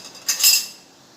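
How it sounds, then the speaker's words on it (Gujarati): A spoon stirs milk powder and a splash of milk together in a small cup for caramel tea, giving a short burst of close metallic scraping and clinking that fades quickly. "અને આને સરસ મિક્સ કરી લઈશું."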